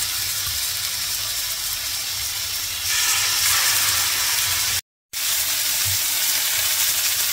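Yakitori skewers sizzle in a hot oiled pan, a loud, close, continuous hiss and crackle that swells slightly partway through, with a short silent gap and no talking.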